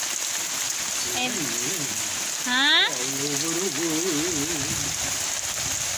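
Steady rain hisses outdoors as an even wash of sound, while a person speaks a few words over it.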